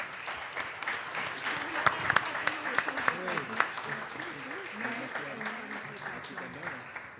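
An audience applauds the speakers of a French-language panel on climate action, with steady clapping that swells in the middle while voices talk over it.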